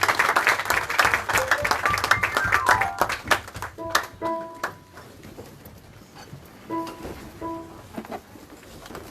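A church congregation applauds the Lord in a burst of clapping that is dense at first and then thins into scattered claps, with some voices and tonal sounds mixed in.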